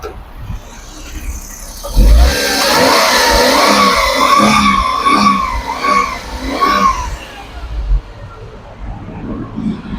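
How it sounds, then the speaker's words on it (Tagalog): A Suzuki DA63 4x4 kei truck engine runs loud and close near the exhaust, with a rising rev and a rough, steady idle. A voice talks over the engine. "So check natin Alvin yung tambutso ha"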